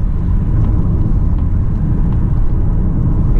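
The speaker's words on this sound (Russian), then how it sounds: "Поэтому прям сразу придавливаешь, очень остро по газу машина." A Mazda CX-30 accelerates hard from a standstill toward 100 km/h, giving a steady, loud engine drone over a low road rumble with no break.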